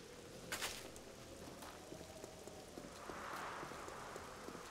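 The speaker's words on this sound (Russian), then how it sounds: "тут, видишь, зимой идет дождь" Steady rain falling in the zombie survival game 7 Days to Die during winter, a soft continuous hiss with scattered nearer drop spatters and a slight swell toward the end, no talking.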